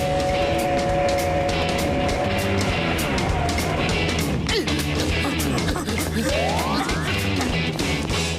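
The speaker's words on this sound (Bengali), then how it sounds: "ড্রাইভার শিগগিরই ট্রেন থামাও, সামনের ব্রিজটা ভাঙা রয়েছে।" A cartoon train rumbles loudly and continuously, with rhythmic clatter and a rising whistle-like tone near the end, all under a dense, busy mix.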